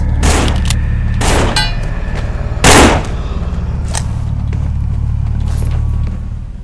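Gunfire echoes through a cabin in the zombie game No More Room In Hell, with sharp, loud shots at irregular intervals, one heavier blast in the middle, over a constant low rumbling hum, without any speech.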